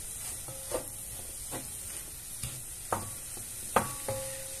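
Leek and pork sizzle in a hot pan under a constant fry hiss while a utensil stirs, its scrapes and taps landing in a loose, irregular rhythm, close up.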